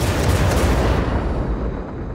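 Missile barrage launched from an 80-missile tank in Star Citizen, a dense, continuous roaring rush of launches and booms that stays loud throughout, thinning slightly toward the end with no talk over it.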